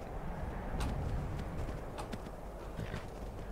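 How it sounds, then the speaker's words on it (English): Horse hooves clip-clopping at a steady gait while riding in the modded video game Skyrim, rhythmic thuds and clacks over low ambient rumble, no talking. "this is an interesting place to be using your horse"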